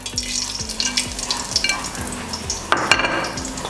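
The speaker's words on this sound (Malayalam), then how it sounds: "ഇതിലേക്ക് കുറച്ച് ഗരം മസാലയും കൂടി ഇട്ട് കൊടുക്കാം" Garam masala sizzles in a spoonful of hot ghee for a chicken biryani, with a steady frying hiss. A spoon scrapes the pan in a regular stirring rhythm, followed by a sharper clatter near the end.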